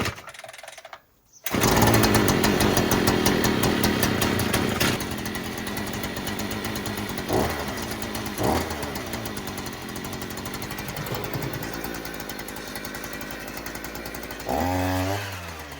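A Hyundai 52cc petrol strimmer cold-starts with the choke on: after a brief pull and pause, the two-stroke engine catches and runs loud and close with a buzzing drone and a few throttle blips, with no talk.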